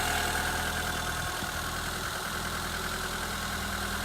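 A 1993 Peugeot 205 with its 1.1 litre petrol engine idles close by, a steady, unbroken mechanical hum with a faint rhythmic knock and no talking.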